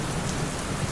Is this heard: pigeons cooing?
no